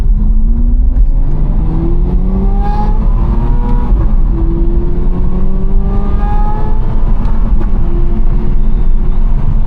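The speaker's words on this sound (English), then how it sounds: "You guys are gonna hear this amazing exhaust right now." A loud Aston Martin V12 Vantage engine revs and accelerates through rising gear sweeps, its exhaust roaring close by with a deep, throaty tone.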